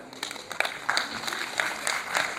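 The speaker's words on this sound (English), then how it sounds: "Please give them a huge round of applause" Steady applause from an audience at a school competition event, a dense patter of claps holding at moderate loudness throughout, without any talk over it.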